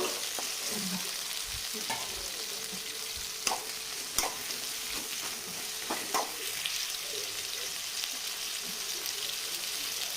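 Brinjal and tomato frying in a pan for chutney, a steady soft sizzle with occasional scrapes and taps of stirring, quiet and close with no talking.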